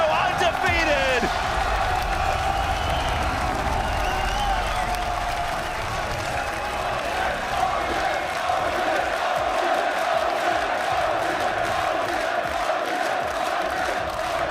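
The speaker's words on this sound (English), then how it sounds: "And just hear that crowd roar." A large esports arena crowd at a League of Legends Worlds group-stage match roars and cheers continuously, with scattered whoops and clapping, while a commentator talks over it.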